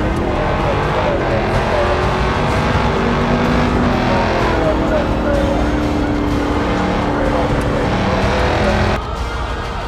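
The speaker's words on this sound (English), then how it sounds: "leading a high-speed chase down the interstate" A car races down an interstate in a high-speed police chase, its engine roaring loudly and continuously with revving and tire noise for most of the stretch, then dropping off slightly near the end.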